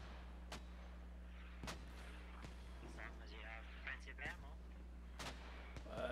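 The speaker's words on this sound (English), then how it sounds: "Mortars, you gave them no fucking chance. The mortars are fucking awesome." Mortar fire in the video game Squad: several sharp, distant-sounding booms land at irregular intervals over a constant low hum.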